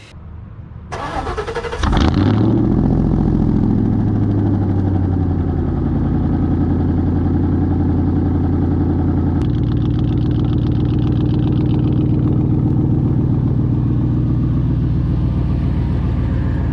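A RAM truck that hasn't been cranked in a long time turns over briefly, fires up loudly and settles into a steady, rumbling idle that runs on alone at close range.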